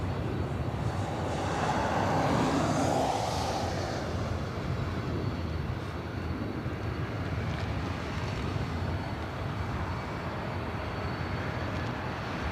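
An airliner on approach to land at LAX, a broad, steady roar of jet engines with a louder swell early on that settles into a sustained rumble, with wind buffeting the microphone.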